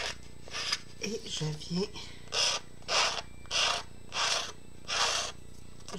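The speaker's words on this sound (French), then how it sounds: "c'est une lime à faux ongles. Donc, ça lime très, très bien." Rhythmic rasping of a false-nail file being worked back and forth, six or so close, even strokes, with a voice speaking briefly at the start.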